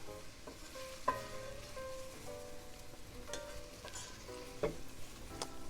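Pancetta and mushrooms browning in a pan, a quiet steady sizzle with a few light scrapes and clinks of stirring.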